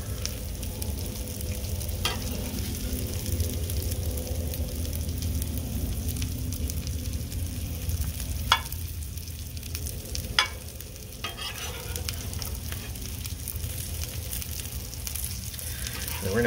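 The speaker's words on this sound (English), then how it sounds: "So we're gonna throw some bacon down. We're gonna do our veggies that are off to the side." Bacon and vegetables frying on a griddle, a continuous close sizzle with occasional scraping clicks and taps of a spatula, and no talking.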